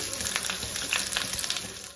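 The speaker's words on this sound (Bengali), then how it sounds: "পেঁয়াজটা আমি 2 মিনিট ভেজে নেব, বেশি ভাজবো না, জাস্ট হালকা ভাজা হবে।" Onion fries in hot oil in a pan, a continuous close crackling sizzle with scattered sharp pops.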